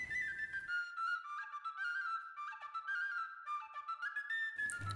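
A shrill, warbling whistle from a handmade clay bird whistle plays a wavering melody for several seconds, fluttering up and down in pitch, close and clear, with brief noise at either end.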